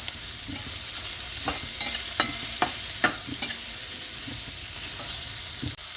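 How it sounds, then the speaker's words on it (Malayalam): Sliced large onion sautéing in a pan, a steady broad sizzle with a handful of sharp scraping stirs spaced through the middle, close and fairly loud, no voices. "നന്നായിട്ടൊന്ന് വഴറ്റിയെടുക്കണം."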